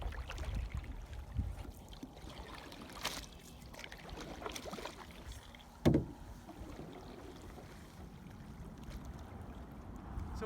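Canoe paddle strokes in water from a solo canoe paddled with draw, power and J strokes, soft swishing splashes under outdoor ambience with one sharper knock near the middle.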